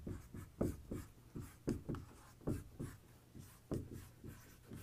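A hand writing on a board in a math class, with steady, faint scratchy strokes falling in an uneven rhythm of short marks and pauses.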